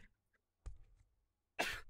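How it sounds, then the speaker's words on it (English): A video game character coughs in two bursts, a shorter one and then a louder, harsher one close up, with a quiet gap between them and no talking. "Oh, he's coughing."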